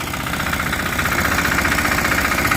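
A 9-horsepower walk-behind tractor engine runs steadily and close by during a pumpkin harvest. It makes a continuous loud, even chugging rumble, with no speech.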